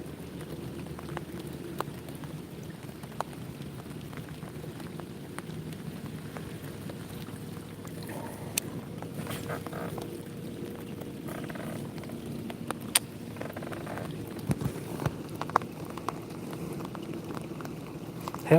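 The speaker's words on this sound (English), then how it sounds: "Well, it looked like a little rain band was coming." Steady rain falls outdoors during a fishing outing, a continuous soft patter with occasional louder drips and taps, fairly close and unbroken throughout.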